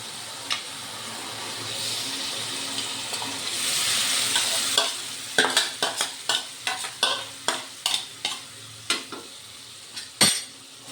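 Mutton goes into masala frying in oil over a low flame, first a rising hiss of sizzling, then a regular run of sharp spoon scrapes and clatters against the pan as it is stirred, up close.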